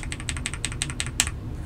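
Rapid clacky keystrokes on a one-piece, non-gasket keyboard fitted with HexGears Soda keycaps and Panda Fish switches (Outemu Red Panda stems in Akko Starfish housings), typed at a brisk uneven pace with one sharper bottom-out near the end.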